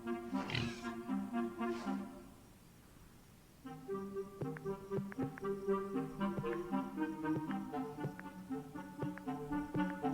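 Pigs oink in the video game Orwell's Animal Farm: a couple of short grunts near the start, then a pause before a plucked, rhythmic musical score takes over.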